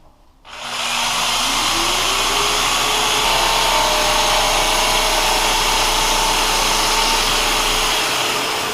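A jigsaw blade cuts through a tile bathroom countertop, starting abruptly and holding a loud, steady grinding whine with a slight pitch shift as it bites in, continuing for several seconds without talk.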